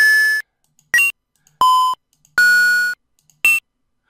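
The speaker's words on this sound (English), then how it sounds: "every time I hit this button, I'm changing my sound effect, and it's playing it" Synthesized game sound effects generated and played one after another in Playmaker: five short electronic beeps and chirps of varying pitch and length, separated by silence, loud and clean with no voices.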